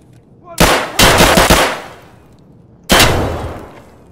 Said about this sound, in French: Je crois que j'ai tiré mes 7 balles.